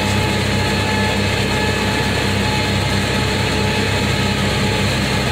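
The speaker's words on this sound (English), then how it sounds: "This tractor's still bogging down." A tractor engine strains under load while baling hay, a loud, steady low-pitched drone with a dense rumbling hum and no voices, close and continuous throughout.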